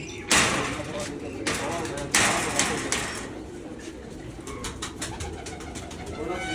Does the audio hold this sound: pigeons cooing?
yes